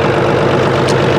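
Mahindra OJA 2127 tractor engine idling at 1000 rpm, a steady, loud, close diesel rumble with a low throb and no pauses.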